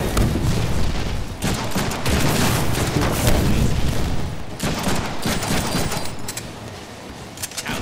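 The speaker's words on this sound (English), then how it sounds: "He sticks us with a grenade." Gunfire and a grenade blast in the PS3 Deadpool action game: loud, continuous bursts of shots and booms packed together with only brief dips in intensity.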